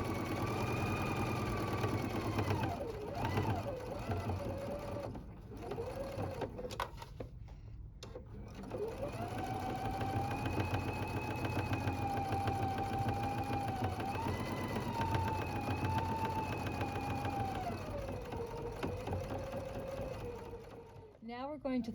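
A sewing machine runs a bottom seam on a fabric wine gift bag, forming a ribbon channel, with steady mechanical whirring in bursts of varying speed, a short pause midway, and talk over part of it.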